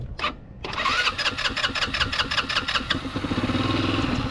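A GY6 scooter with a clogged carburetor cranks with a rapid chattering starter, then its engine catches weakly and sputters unevenly, close and loud.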